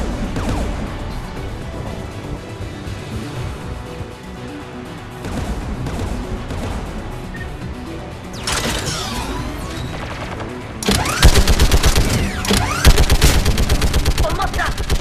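Enemy gun firing in the Mass Effect 3 video game, loud continuous bursts of automatic fire throughout, growing heavier and harsher toward the end, with rapid rattling shots and a voice speaking briefly.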